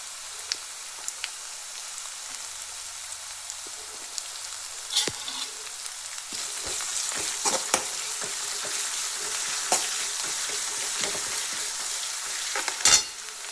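Curry leaves and green chillies fry with ginger and garlic in hot oil for a fish cutlet, giving a steady, close crackling sizzle with sharper pops and spatters building toward the end. No one speaks.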